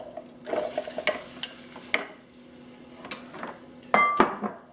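Shrimp and scallops tumble in an Actifry air fryer as its paddle turns, with soft clinks, scrapes and light knocks from the pan over a faint background hum, plus a brighter metallic clatter near the end.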